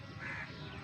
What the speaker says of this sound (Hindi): ये जो पीछे चिड़ियों की चहचहाट और मोरों की आवाज़ आती है।